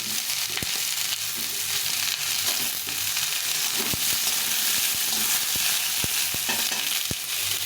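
Eggplant frying in a pan with pointed gourd for a vegetarian curry, a dense, loud, continuous sizzle close by, dotted with occasional soft clicks from stirring.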